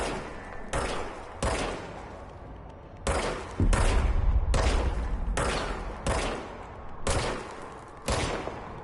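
A gun fires in the video game Control, cracking out roughly a dozen sharp, loud shots at a steady, slightly uneven pace, each trailing into a brief echo, with a deeper rumbling impact in the middle and no voices.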